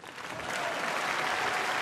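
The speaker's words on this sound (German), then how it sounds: "ihr dürft währenddessen einfach weiter klatschen." A comedy-show audience claps steadily and densely throughout, a sustained wash of applause that holds at an even level with no speech on top.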